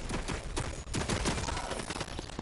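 An automated turret in Fortnite Zero Build fires rapid, continuous bursts of gunshots, closely spaced and fairly quiet, filling the whole stretch.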